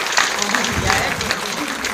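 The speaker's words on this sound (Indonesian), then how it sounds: "Tepuk tangan untuk regu E." Applause from a group, steady clapping lasting a couple of seconds with some voices mixed in.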